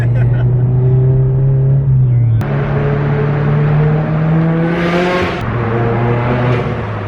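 A modified Subaru BRZ making about 250 kW (340 hp) drives along, its engine droning loudly and steadily inside the cabin, pitch rising and dropping with gear changes.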